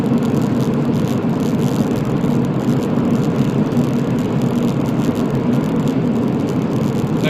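Cabin sound of a Honda Civic Type R EP3 cruising steadily at 60 mph, a constant loud road and engine drone with a low steady hum, no talking.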